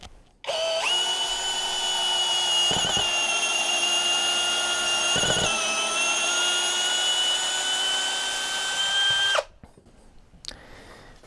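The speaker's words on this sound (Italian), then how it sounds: "Ora avete sentito scappare il bit, ma in realtà è colpa della punta rovinata" Mensela ED-LX2 brushless impact drill driving a used screw with a worn bit, a long, loud, steady motor whine with a couple of brief jolts as the bit slips, then the motor stops abruptly.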